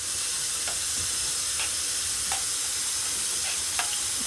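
Chili ingredients sizzle in a pot on a stove over medium heat, a steady close frying hiss with a few light stirring clicks and no talking.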